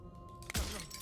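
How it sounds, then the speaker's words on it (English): Glass breaking in the video game Slay the Princess: a single sudden shatter with a low thump beneath it, rising over a faint droning hum, then a short bright ringing decay. "But his pleas disappear at the sound of breaking glass"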